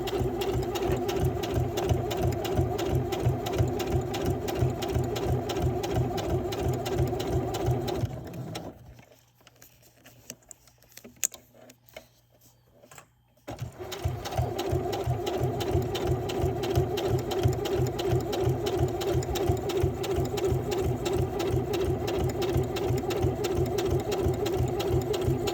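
A sewing machine stitches faux leather bookmarks in a steady, rapid chatter, pausing for a few seconds midway before resuming the same fast, even stitching to the end.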